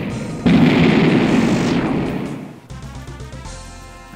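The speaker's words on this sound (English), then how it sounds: "I have to admit, I do like that explosion sound." A loud, sudden explosion from the video game Ron's Insanity bursts out near and alone, then rumbles and fades over about two seconds before game music picks up.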